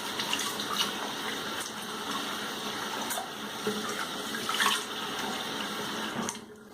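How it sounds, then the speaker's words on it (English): Water runs steadily from a tap as a freshly shaved head is rinsed after a head shave with a slant razor, a continuous close splashing wash that stops abruptly near the end. "Let me do a quick rinse."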